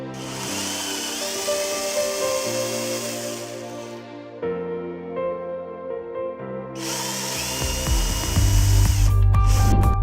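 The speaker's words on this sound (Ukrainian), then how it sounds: "Свердлимо отвори для кронштейнів." A power drill whirs in sustained bursts, pausing briefly mid-way, then bites into material with a rougher, louder grind toward the end, drilling holes for brackets.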